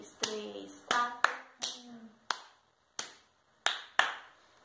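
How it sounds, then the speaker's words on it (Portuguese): Hand claps ring out in a deliberate rhythm during a music lesson, some spaced evenly and some in quick pairs marking half beats, with faint voiced sounds between them and brief pauses. "Quando a gente faz rapidinho as palmas, a gente marca meio tempo"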